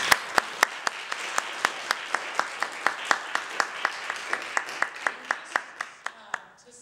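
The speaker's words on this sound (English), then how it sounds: "So let's give them all a round of applause." Audience clapping for panelists at a talk on eliminating gender-based violence at work, sparse and distinct individual claps in a steady beat that slows and thins out toward the end.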